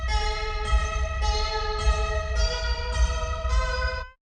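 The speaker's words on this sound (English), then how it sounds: "We can also add tons of reverb to this," Synthesized Reaktor melody drenched in heavy reverb, a run of bright ringing notes whose tails blur together into a continuous wash, steady and loud with no voices.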